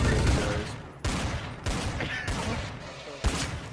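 Repeated gunfire in the video game Trouble in Terrorist Town, loud bursts of shots with sharp cracks at intervals, with brief talking underneath.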